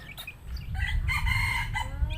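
A rooster crows nearby while chickens cluck around it, several bird calls overlapping in a busy farmyard.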